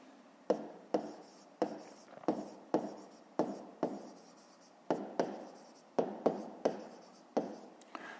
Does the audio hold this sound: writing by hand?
yes